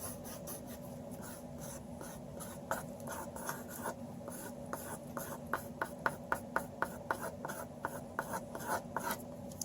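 A pencil sketches hair on paper for a head-proportions drawing, with steady close scratching strokes that later turn into quicker, sharper ticks and dashes.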